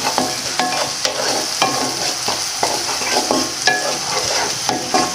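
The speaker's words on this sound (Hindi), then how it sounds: "ऐसे आपने अच्छी तरह इसको फ्राई कर लेना," Steady sizzling of garlic and chilies frying in a pan, with repeated scraping and stirring strokes at an even rhythm, close and fairly loud, no talking.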